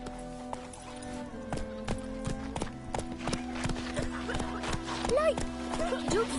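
A horse galloping in The Witcher: steady rhythmic clip-clop hoofbeats close by, with game music tones and a brief voice over them.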